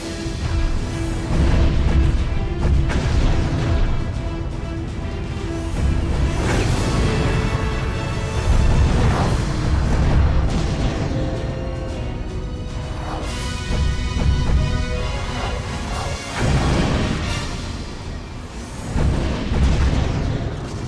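Ship cannon fire and explosions in the PC space combat game Deadly Tide, a dense, continuous barrage of booming blasts and crashes layered over a game soundtrack, loud throughout with no talk.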